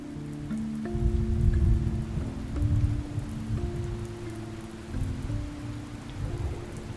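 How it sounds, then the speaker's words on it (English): Steady rain pours while low thunder rumbles roll in repeatedly, a sustained musical drone sitting underneath the storm throughout. "the storm's really whipping up"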